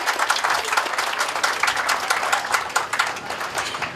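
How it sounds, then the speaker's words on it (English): An indoor audience at a community event claps in sustained, dense applause, loud and continuous throughout with no talk over it. "Give yourself a hand."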